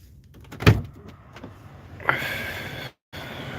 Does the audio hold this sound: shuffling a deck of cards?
no